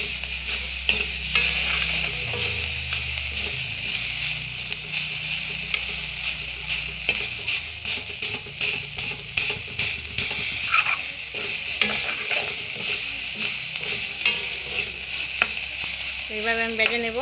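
Dried fish and bottle gourd sizzling in an oily pan while being stirred steadily, with repeated scraping and clatter of the spatula over a continuous loud fry, no talking.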